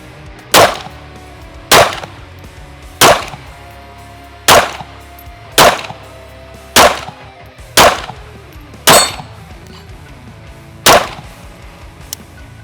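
A 1911 pistol fires about ten sharp, evenly spaced single shots, each a loud crack with a short echoing tail, with no talking between them.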